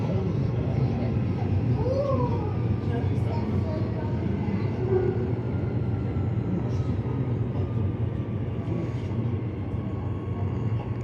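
An Ellenbrook Line 6-car express passenger train in Perth rumbles steadily from inside the carriage, a dense rolling drone with no break across the ride.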